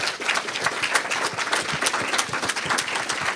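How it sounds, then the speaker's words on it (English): Applause from a church audience, a dense, steady patter of many hands clapping throughout, moderately close, with no one speaking over it. "I want us to give him a round of applause for being so daring"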